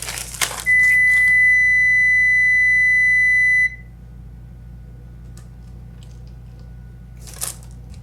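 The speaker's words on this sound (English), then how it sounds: "just beeped because it came up to temperature" A kitchen oven gives a single long electronic beep, lasting about three seconds, when it reaches preheat temperature, followed by quiet kitchen clatter.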